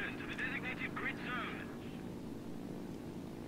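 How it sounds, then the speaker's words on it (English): Several aircraft drone overhead in the IL-2 flight game over Essen, a steady, moderately loud engine rumble, with a voice speaking briefly over it near the start. "Oh, there's a lot of planes over here in Essen."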